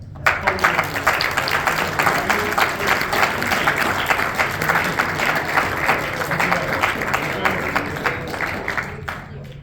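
An audience at a high school boys' bowling banquet awards presentation claps continuously for several seconds, a dense, fairly loud round of applause that fades near the end.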